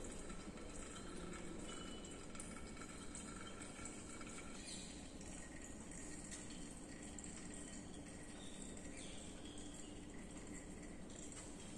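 Oil flows steadily from a Redwood viscometer into a glass beaker, a continuous faint trickling wash that holds evenly throughout with no voices.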